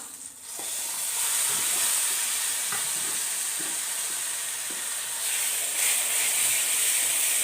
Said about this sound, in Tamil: அரைச்ச இஞ்சியை இந்த எண்ணெயில் போட்டுக்கலாம்.